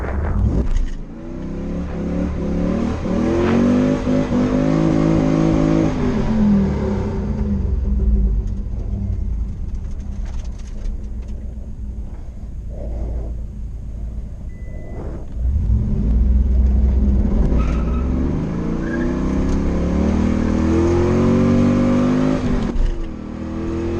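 A Pontiac Trans Am accelerates hard on skinny new tires in a 0-60 attempt, the engine climbing loudly through the revs, easing off, then surging again in a second roaring pull.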